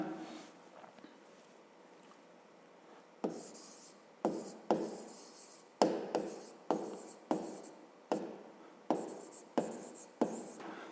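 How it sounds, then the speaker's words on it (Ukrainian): Pen or chalk writing out a fifth-grade math solution, a quiet scratching at first, then a run of about a dozen sharp, regular strokes tapping and rubbing close by, with no talk. "Записуємо тоді розв'язання."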